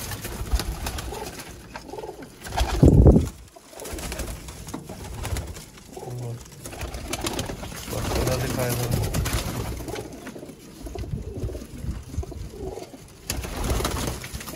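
Pigeons coo in soft, low, repeated throbbing calls, with a louder flutter early on and people talking nearby throughout.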